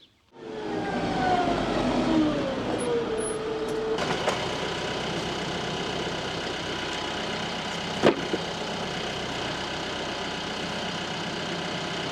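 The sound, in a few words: big farm tractor engine running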